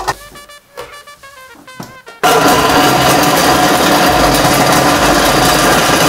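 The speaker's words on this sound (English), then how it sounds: "It's a pretty powerful blender," Hamilton Beach Commercial Quantum 950 blender crushing ice for a mango drink, preceded by a couple of seconds of clinking and handling noises, then the motor kicks in with a loud, dense, steady roar.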